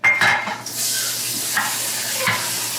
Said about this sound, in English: Now we have to stir it really careful because it's hot.